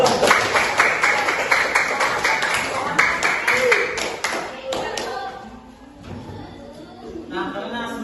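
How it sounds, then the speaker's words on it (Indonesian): Students in a classroom clap for a group after its presentation, a brisk run of fairly close claps for about four seconds that then fades, with voices talking around it. "silakan tepuk tangan buat kelompok 6 dulu"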